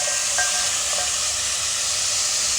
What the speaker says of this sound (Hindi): हल्का सा हम इसको इस तरीके से फ्राई कर लेंगे